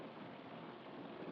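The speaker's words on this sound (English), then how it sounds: "There's the hail." Hail pours down in the Farming Simulator 25 game, a dense, steady patter of impacts forming a constant wash of noise with no pauses or voices.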